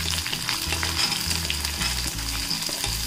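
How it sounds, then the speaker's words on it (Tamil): Cumin seeds frying in oil in a pan, a steady dense crackling sizzle, close and continuous with scattered sharper pops. "ஜீரகம் நல்லா இப்போ வந்து பொரியட்டும்."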